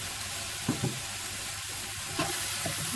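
Small-cut salted onion frying in a pan, a steady hissing sizzle with a few soft scrapes as it is stirred, moderately close and quiet, with no speech.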